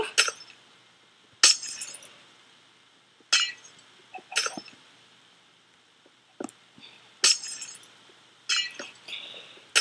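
Glass blocks shattering in the Minecraft video game, a series of about eight sharp crunching breaks spaced irregularly over several seconds, fairly close and loud, with no talking between them.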